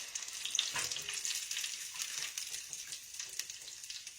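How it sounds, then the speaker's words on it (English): Onion rings frying in grease that is still very hot after a batch of fish, giving a steady close crackling sizzle with bright hiss and scattered pops throughout, and no voices. "let's fry us just 1 or 2 more"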